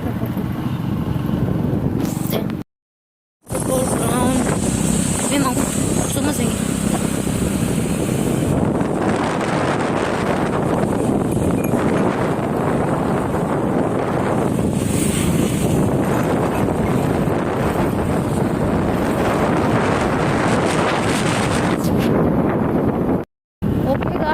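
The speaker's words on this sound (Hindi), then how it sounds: "बहुत ज़ोर से बाइक चला रहा है" Heavy wind buffets the microphone while riding fast on a motorbike, a loud continuous roaring rush with two abrupt brief dropouts, and voices talk intermittently beneath it.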